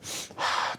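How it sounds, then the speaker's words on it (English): Two quick, sharp sniffing inhales followed by a longer relieved sigh, close and clear, all within a second. "2 sharp inhales and a sigh of relief."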